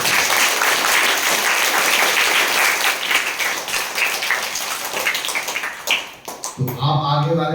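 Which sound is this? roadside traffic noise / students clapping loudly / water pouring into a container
students clapping loudly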